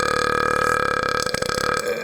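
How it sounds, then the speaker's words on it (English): A single long burp, loud, close and resonant, rumbling tonally for about two seconds before breaking up and trailing off at the end, with nobody speaking over it. "Oh, now that was a beautiful burp, yeah, huh?"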